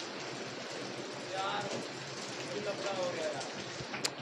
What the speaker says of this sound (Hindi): इतनी ज़्यादा तेज बारिश हो रही है